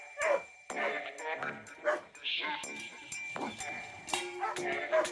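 Dogs fighting, a tall wolfhound-type dog going after a big wolf-like dog while a Central Asian Shepherd looks on, with repeated sharp barks, yips and whimpers in close, uneven bursts.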